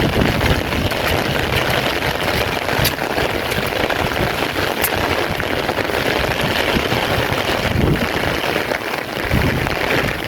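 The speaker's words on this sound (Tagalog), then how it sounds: "Malakas yung hangin." Steady, roaring broadband noise of strong wind buffeting the microphone throughout, with low rumbling gusts and no speech.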